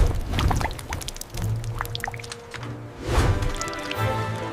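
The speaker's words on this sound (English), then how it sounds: "This is the visual centerpiece where Snickers bars receive their iconic milk chocolate coating." Milk chocolate pouring in a steady curtain over Snickers bars on an enrobing machine in a chocolate factory, a continuous liquid rush and drip with low machinery hum, moderately loud and with no talk.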